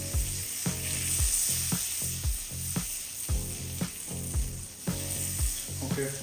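Butter and garlic sizzle steadily in a hot pan while veg momos are being made, with repeated sharp stirring scrapes every half second or so over a continuous close, bright frying hiss.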